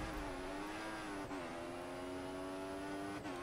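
An F1 race car in F1 2014 heading for the pit stop, its engine whining at high revs with a continuous tone and brief dips at gear shifts, heard from close up.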